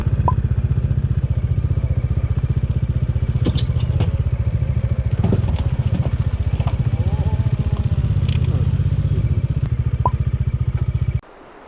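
Motorcycle ride in Menchuka: a loud, steady engine drone close by throughout, with occasional clatters and knocks over the running motor, cutting off abruptly at the end.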